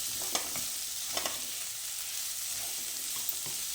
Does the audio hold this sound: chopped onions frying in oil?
yes